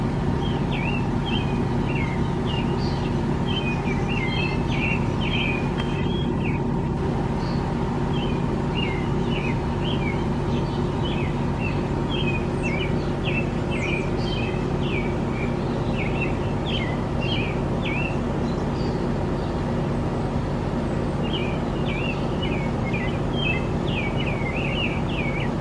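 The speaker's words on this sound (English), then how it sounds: "I think the birds must be happy for the rain today too, because they are really chirping" Small birds chirp in repeated quick bursts over a steady background hum, fairly faint and continuing throughout.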